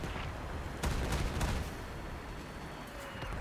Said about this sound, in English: I'm going to shoot like a little bit low on him